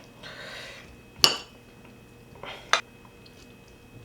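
Metal utensils clink sharply against a plate twice as prawns in chilli and garlic are piled on top of pak choy, with soft scraping and squishing between the close, crisp knocks.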